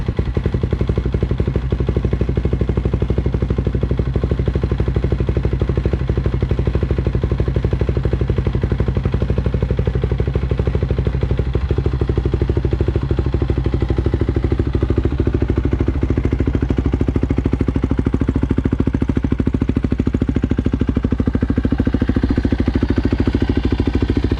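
A Predator small gas engine runs without throttle, a steady close chugging drone with mechanical clatter that holds at one level for the whole stretch, with no talk over it.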